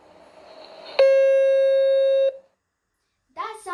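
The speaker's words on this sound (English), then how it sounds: "That sounds like a harmonic fifth" A steady electronic tone with a sharp onset sounds as two pitched tones together, forming a harmonic fifth. The sound holds for about a second and a half, then cuts off, and a voice follows after a short pause.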